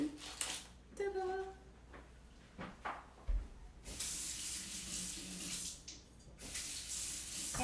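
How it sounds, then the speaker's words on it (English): A small onion rinsed under a running kitchen tap, water splashing in a sink with brief clatters and knocks in between, close and moderately loud, with a short stretch of speech early on. "so now let's rinse a little onion"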